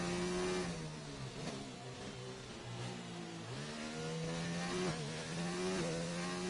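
Open-wheel F1 car engine in the racing game F1 2019, a steady high-pitched whine that dips and climbs as the gears change down, running loud and continuous throughout.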